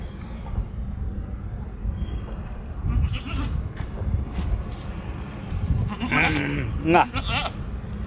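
Sheep bleat intermittently while grazing on a farm, the cries rising over steady outdoor background noise as people chat nearby.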